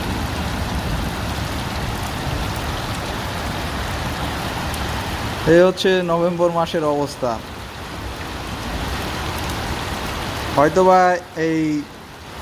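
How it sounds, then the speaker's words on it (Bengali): A heavy November downpour hisses steadily and fills the whole stretch. Someone speaks over the rain in two short bursts. "আজকে মুষলধারে বৃষ্টি হচ্ছে ভোর সকাল থেকে।"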